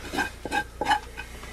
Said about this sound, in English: I'm just scraping the bottom now, so I don't have to wash it again